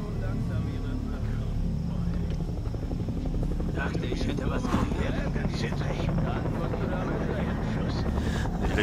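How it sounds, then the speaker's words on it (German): A helicopter in the open-world shooter Far Cry 3 drones steadily with a rapid rotor chop and a heavy low hum, loud and constant throughout, while a voice speaks over it. "Helikopter? Wo sind wir?"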